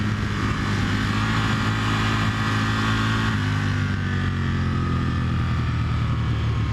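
A motorcycle engine holds a steady throttle while cornering on a race track, a loud continuous droning hum with a slight pitch shift midway, heard up close over wind noise.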